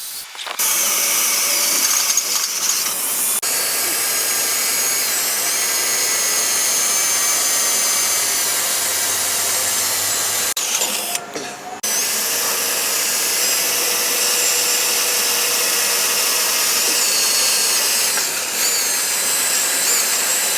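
A power drill bores holes through the steel C-channel of a Ford Super Duty truck frame during a traction bar install, a loud sustained whine that runs almost without break, with one short pause near the middle.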